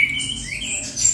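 Canary singing in a short burst of bright, high chirps and trills, loud and close, with no voices.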